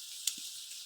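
Spices drop into hot oil and sizzle in a steady hiss, with a small pop near the start, for a mourola fish curry.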